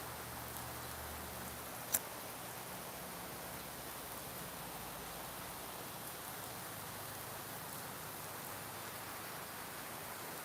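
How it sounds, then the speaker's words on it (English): Steady, even rain hiss fills the scene at an early-morning outdoor spot in Thailand, constant and moderately soft throughout with one brief sharp tick near the start and no voices. "it's sadly raining"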